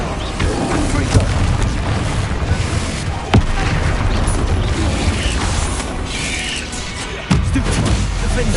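The Confringo fire spell explodes during Hogwarts Legacy combat on PS5. A dense, loud wash of battle noise runs throughout, with sharp booms near the middle and again near the end.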